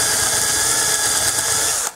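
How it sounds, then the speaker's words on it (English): A power drill whirs steadily at high speed for nearly two seconds drilling a hole into a lid, then cuts off abruptly near the end. "We'll just drill a couple of holes real quick here into the lid."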